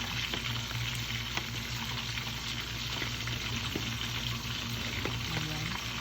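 Fish fries in a pan for a sautéed bottle gourd and sardine dish, spattering in a steady, dense crackle close by with faint kitchen clatter and a voice briefly underneath.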